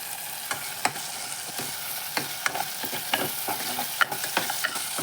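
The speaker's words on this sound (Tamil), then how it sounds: "இந்த பாருங்க, இப்போ வதக்கி வந்துருச்சு." Ingredients for a Kerala-style fish curry sauté in a pan, a quiet, constant frying hiss punctuated by irregular clicks and scrapes of a spoon being stirred through, with no talking.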